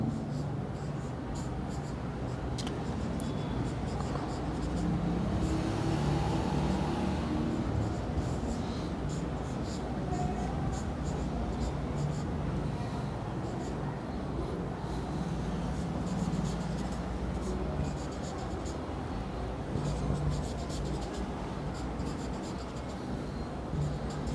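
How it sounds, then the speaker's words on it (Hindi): Steady scratching of chalk or marker on a board during a chemistry lecture on IUPAC naming, continuous and fairly close, with a soft hum of room noise underneath. "कुछ मैं पास लिख रहा हूं"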